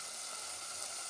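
Brinjal and curry leaves frying in a hot pan give a steady, close sizzle, a continuous broadband hiss at even loudness with no talk over it.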